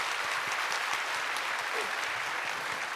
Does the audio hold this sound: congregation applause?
yes